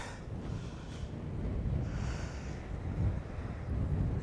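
Strong wind buffeting the microphone on a cloudy harbour walk in Ponta Delgada, Azores, a loud continuous low rumble with gusty surges.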